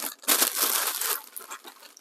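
Greaseproof paper crinkles and crumples close to the microphone as smoked short ribs, just off a Weber grill, are wrapped, a dense crackling burst that eases into lighter rustles.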